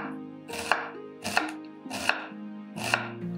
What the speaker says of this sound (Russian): Тем временем нарезаю одну репчатую луковицу.